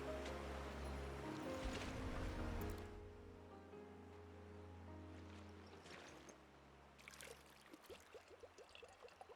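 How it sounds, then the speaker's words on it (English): River water flows in Final Fantasy XVI, a steady rushing wash that thins after a few seconds, with no voices. "We can collect the water of the river from here."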